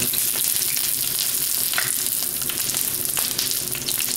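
Ginger and chives sizzle steadily in a carbon steel wok, a continuous close hiss of frying with scraping stir strokes running throughout and no voices.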